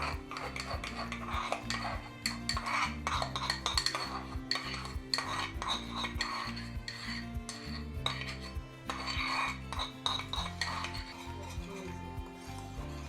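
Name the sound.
stirring mango puree into vegan phirni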